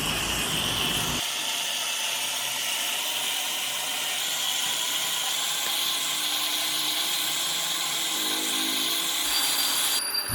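Herbal hair oil mixed with plant juice boils in a pan, giving a steady, dense sizzling hiss with fine crackles that runs unbroken throughout, with no talking.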